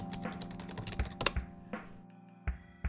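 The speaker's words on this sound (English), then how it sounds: "My keyboard's actually closer to the mic than I am." Computer keyboard typing very close to the mic during pixel-art work, with bursts of sharp key clicks and thunks in uneven rhythm, a brief pause, then more keystrokes over a steady background hum.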